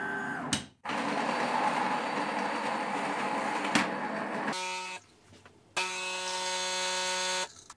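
A DeLonghi Magnifica ESAM 4200 bean-to-cup espresso machine grinds coffee beans, a close, steady buzzing drone that breaks off briefly and then returns as a higher-pitched tonal hum.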